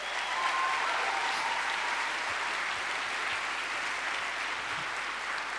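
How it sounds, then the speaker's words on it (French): Audience applause at the Séries Mania 2026 opening ceremony for actors Simon Helberg and Billy Magnussen, steady dense clapping from a large crowd held at an even level throughout. "Toute mon admiration à Simon Helberg et Billy Magnussen, tous les deux dans The Audacity en compétition demain soir, et ils méritent vos applaudissements."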